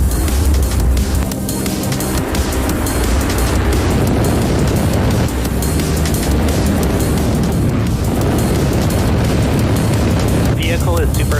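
A SpaceX Falcon 9 rocket lifts off from SLC-40 at Cape Canaveral, its engines producing a loud, continuous crackling roar with deep rumbling throughout, overlaid by a voice speaking over the noise.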